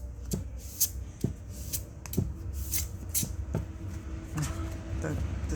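Tarot cards riffle and slap in a series of quick, crisp bursts, close up, with a soft rustling between each shuffle.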